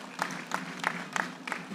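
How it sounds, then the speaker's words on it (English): Applause at a correctional service gala dinner, a few rhythmic, prominent claps standing out over a soft bed of crowd clapping, moderately distant and fairly quiet. "Give Langata Women's Prison a round of applause."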